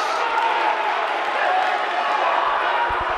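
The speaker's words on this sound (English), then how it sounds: "Crowd's going crazy." Packed crowd roaring steadily at a Winchester High School boys varsity wrestling match against Woburn, a dense, loud wash of cheering and shouting that stays constant throughout, with a few sharp thumps near the end.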